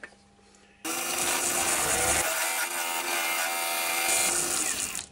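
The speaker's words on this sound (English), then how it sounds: "I'm just going to put the shoulder on the tenon now using the skew chisel." A brief quiet moment, then a steady whirring wood lathe as a skew chisel scrapes and cuts the shoulder of a tenon on maple, a continuous rasping hum at close range.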